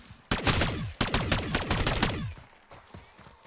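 Rapid bursts of MCW rifle fire in the Modern Warfare Zombies game, two loud automatic volleys with sharp repeated shots, then trailing off into quieter scattered sounds.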